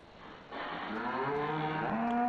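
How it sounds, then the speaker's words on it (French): Calves mooing in Farming Simulator 15, a long, drawn-out bovine moo rising and holding, then a second call starting, moderately faint over a quiet farm background. "vous entendez les veaux, tout ça."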